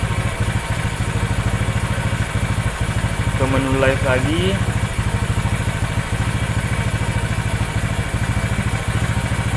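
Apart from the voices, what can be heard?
Honda Vario motorcycle engine running at idle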